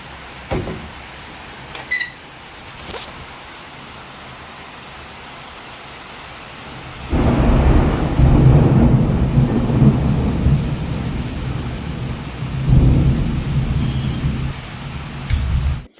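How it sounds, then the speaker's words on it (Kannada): Heavy, non-stop monsoon rain with rolling thunder: a quieter wet hiss with scattered cracks gives way to a loud, dense downpour roar from midway, with deep thunder rumbles swelling near the end. No one speaks. "ಅಷ್ಟೊಂದು ಮಳೆ ಬರ್ತಿದೆ ನಾನ್ ಸ್ಟಾಪ್ ಆಗಿ"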